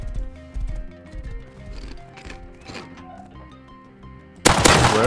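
In the video game Rust, a horse's hooves clop along under scattered shots, then a sudden loud burst of gunfire erupts near the end.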